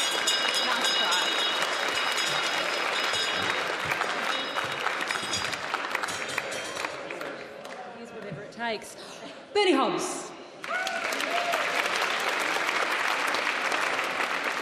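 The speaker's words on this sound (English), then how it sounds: "Come on, just give them a bit of a clap." A live audience at the Beaker Street science festival debate in 2019 breaks into sustained applause and cheering that fills most of the stretch, dipping briefly while a presenter speaks over the crowd before the clapping swells again.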